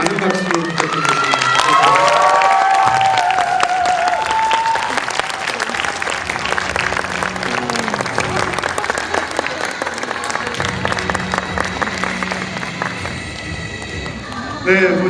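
A crowd at a Korean movie event for Ghost in the Shell claps and cheers loudly throughout, with dense, sustained applause and some voices and music-like tones mixed in.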